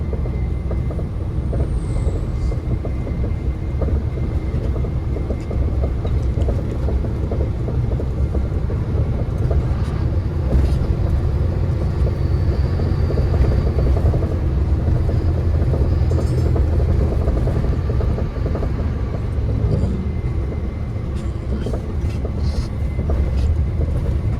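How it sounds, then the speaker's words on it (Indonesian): A vehicle rolls steadily along a concrete road with a constant broadband rumble, punctuated by faint periodic thumps as tires cross the slab joints; no talking. "Kalau cor-coran terus ini kan sambung-sambungannya bunyi gitu guys."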